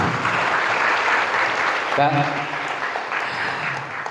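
A seminar audience claps together in a dense, steady wash of applause, with a brief voice cutting through partway.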